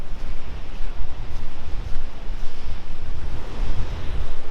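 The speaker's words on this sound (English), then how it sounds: "Look at the water crashing between the rocks down there." Ocean waves surging and crashing between coastal rocks on the Pacific shore near Pebble Beach, a continuous loud roaring wash with rumbling low surges and heavy wind buffeting the microphone, no talking.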